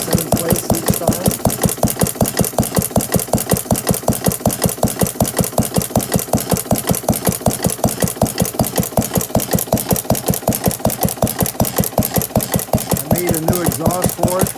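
Old-style stationary engine that runs on fire, with a spinning push rod and an aluminum exhaust made like the original, chugging in a fast, even rhythm of sharp, loud beats heard up close throughout.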